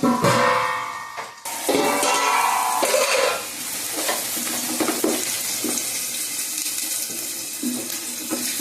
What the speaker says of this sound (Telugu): ఉల్లిపాయలు అయితే వేగుతున్నాయండి కొంచెం కరివేపాకు వేసాను